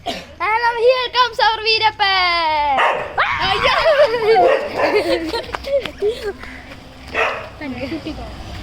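A dog yelps and barks repeatedly up close in quick, high-pitched bursts, then whimpers while a child and other people talk over and around it.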